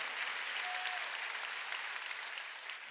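A church congregation at a Wednesday worship service applauds, a dense, steady wash of many clapping hands that holds at an even level for the whole stretch, with no voices on top.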